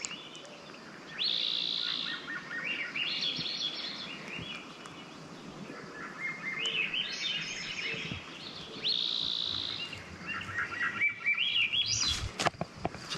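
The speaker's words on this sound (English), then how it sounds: "Just listening to the birds." Birds chirp and sing outdoors on a rural homestead hike, bright repeated calls and trills at moderate distance, with a quiet open-air background and a few soft rustles near the end.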